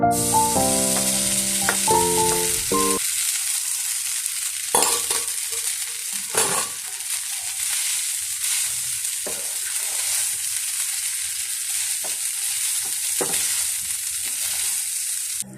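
Noodles stirred in a hot pan, frying with a steady, close sizzle and occasional scraping stirs, starting after a brief musical intro and running alone throughout.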